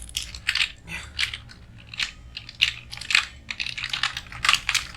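A name is typed on a computer keyboard in Notepad, with irregular bursts of crisp key clicks and brief pauses between them, close and clear, with no talking.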